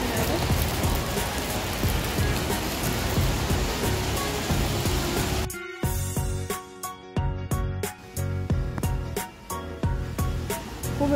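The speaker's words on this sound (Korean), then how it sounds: "비가 와서 강수위가 점점 올라가고 있습니다." Rain falls during a walk along a rising river, first as a dense, steady wash of patter, then thinning to sharper scattered drops tapping nearby on a surface.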